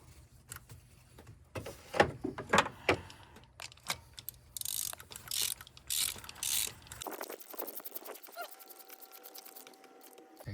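Small clicking and ratcheting mechanical sounds of a wrench extension hand-tightening a spark plug on a 2006 Suzuki, close and fairly quiet, in short irregular bursts with a steady hum later.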